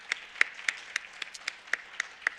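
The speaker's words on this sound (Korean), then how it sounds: "박수 한번 쳐주시기를 바랍니다." A church congregation applauding after a sermon prompt, heard as sparse, evenly spaced claps at a quiet, moderate distance, with no voices over them.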